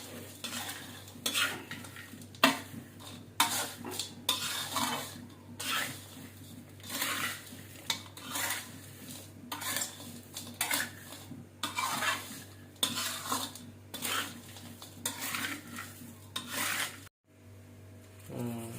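Rice being stirred and mixed with fried kaffir lime leaves and chili in a pan, repeated scraping strokes of a utensil against metal in a steady rhythm, close and continuous, ending with a brief pause and a rattle.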